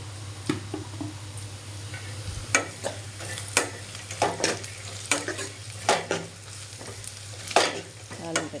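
Onion tempering frying for lemon rice in a pan, a soft steady sizzle with a low hum beneath it and repeated clear scrapes and knocks of a spoon stirring.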